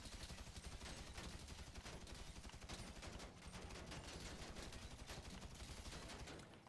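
Sustained rapid gunfire at a Karin Kuruma car in a video game, a loud continuous automatic burst with only a brief dip midway before trailing off.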